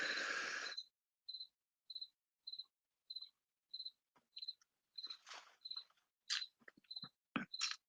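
Crickets chirp at night in steady, evenly spaced pulses, close and clear. Brief rustles and soft knocks come between the later chirps, with no talking.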